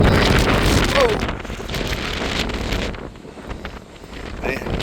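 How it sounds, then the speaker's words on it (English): Steady wind rushes and buffets across the open deck of the Queen Mary 2 ocean liner near its spare propellers, a loud continuous roar that briefly eases before gusting again, with faint indistinct voices in the background. "It's always windy coming through here"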